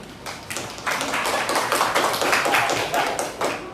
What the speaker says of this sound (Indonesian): Tepuk tangan buat videonya dulu.